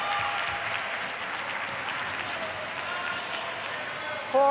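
Spectators at a table tennis men's singles match between Thailand and Singapore clap in sustained, even applause, a steady wash of hands with faint voices in the crowd and a brief sharper sound at the very end.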